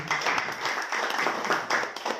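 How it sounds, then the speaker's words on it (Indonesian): Audience applause at a product presentation for Econanoid engine oil, a steady wash of clapping hands filling the room at moderate volume for a couple of seconds. "Tepuk tangan untuk Econanoid."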